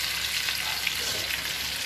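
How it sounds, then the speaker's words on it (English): Salsa frying in a pan over a flame and being stirred, a steady, close, broadband sizzle that holds through the whole stretch with faint spoon scrapes and no talk. "Okay, so my salsa is getting cooked. Just give it a stir."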